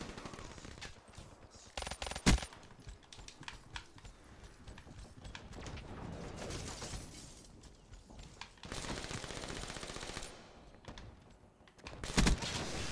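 Gunfire in the shooter game Black Ops 3, with rapid bursts of automatic shots mixed with clattering game effects. Some bursts are louder and others fainter, spread across the whole stretch.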